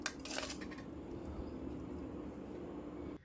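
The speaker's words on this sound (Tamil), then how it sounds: "இப்போ அது கூட கொஞ்சமாக ஆயில் சேர்த்து கிளறி விட்டுக்கோங்க" Drained noodles being stirred with a little oil in a pot, a steady clatter and scrape of utensil against metal that runs without pause and stops abruptly at the end.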